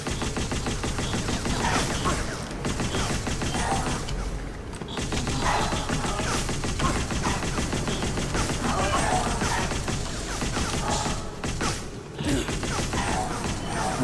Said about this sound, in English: the secondary of the magma rifle, which I'm now out of ammunition for, is like a sort of small shotgun blast